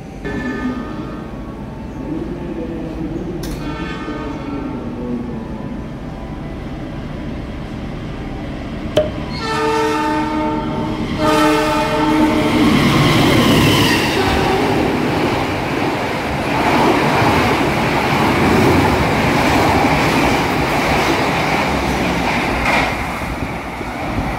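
A train horn sounds, then a passenger train rumbles past at Haurgelis station in Indonesia with rising, rushing noise that stays loud for a long stretch.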